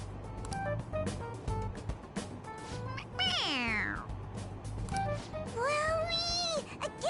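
A toy cat gives two drawn-out electronic meows when its head is pressed, sliding in pitch, over background rumble and hum.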